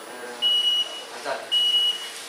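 Electronic alarm signalling prayer time, two evenly spaced high steady beeps, each lasting under half a second, heard in a room over faint background murmur.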